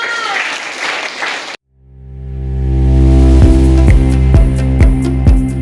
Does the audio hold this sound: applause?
yes